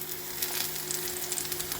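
Banana pieces roast in ghee in a pan, giving a steady, close sizzle that runs on unbroken with no one talking.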